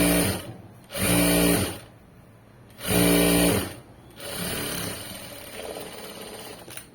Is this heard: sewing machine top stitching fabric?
yes